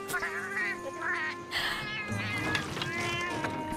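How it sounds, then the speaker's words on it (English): A cat in the video game Metal Gear Solid: Peace Walker meows repeatedly and insistently, loud and close, with someone speaking over parts of it. "Oh my god, this cat is just going off."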